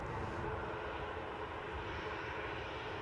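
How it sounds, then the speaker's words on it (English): A departing airliner at Newcastle airport bound for Tenerife produces a steady, loud broadband jet engine roar that fills the whole stretch without pause and with no speech. "Just in time to see this plane depart for Tenerife."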